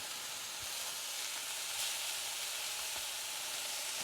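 A hamburger steak patty sears in a pan over medium-low heat, giving a quiet, continuous sizzle and hiss with a few faint pops and no talk.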